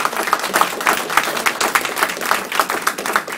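An audience applauds at a grand opening event, giving a steady burst of many hands clapping close and loud with no voices over it.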